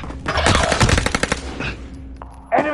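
Rapid bursts of automatic gunfire in a multiplayer shooter match, a dense close volley for about two seconds, then a brief pause before another sharp burst.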